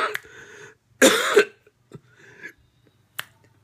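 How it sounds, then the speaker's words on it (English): A person coughs and clears their throat in a few rough bursts, one loud harsh cough near the start followed by softer throat sounds and a short sharp catch, close and alone. "Even when I'm coughing."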